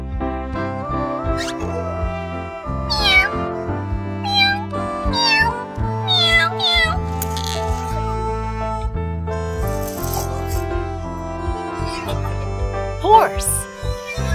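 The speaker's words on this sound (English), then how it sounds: "Cat." Several distinct cat meows ring out over a bouncy children's music backing, repeated in quick succession and fairly close.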